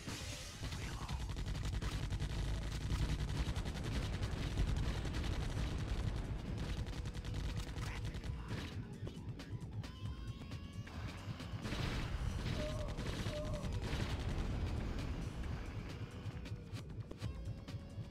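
Rapid bursts of gunfire and explosive blasts in the Judge Dredd arcade game, loud and dense, with overlapping shots and impacts continuing nearly nonstop across the whole stretch.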